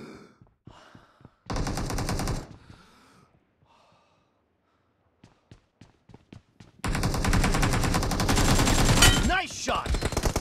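Automatic gunfire in the BGMI (PUBG) mobile battle royale game, two loud rapid bursts, a short one early and a longer one later, separated by quiet stretches with faint clicks and soft breathing-like sounds.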